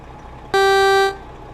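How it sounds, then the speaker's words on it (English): A loud, harsh truck horn from American Truck Simulator, with a truck cruising in Iowa, blares once for about half a second as a steady tone and then cuts off, with no talk over it. "oh, that was the horn, sorry about that. Oof, that's an ugly horn, and very loud."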